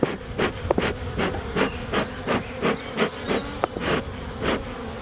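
Honey bees swarm a hive opened for inspection, a close, loud, steady buzzing hum with repeated soft bursts of wing noise and rustling every half second or so.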